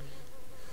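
Brief, steady insect-like buzzing from a mosquito enemy in the video game Silent Hill 4, a continuous drone held for under a second with no talk.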